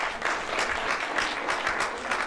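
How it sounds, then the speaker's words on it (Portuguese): A church congregation claps together in a continuous, fairly even patter of many hands, heard at moderate distance with no voices standing out. "Pode já dar salvas de palmas aí?"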